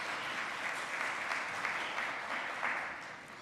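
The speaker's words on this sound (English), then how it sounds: "let's just applaud ourselves on how hard it is to be a small business owner" Audience applause at a small business day event, a steady dense wash of many hands clapping at moderate loudness, close and continuous throughout with no talking.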